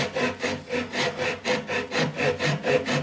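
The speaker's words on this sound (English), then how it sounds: "Before I can put a string on it, I need to cut some string grooves." Hand tool rasping back and forth against a wooden bow while cutting string grooves, about a dozen steady rhythmic scraping strokes, close and fairly loud, with no talking.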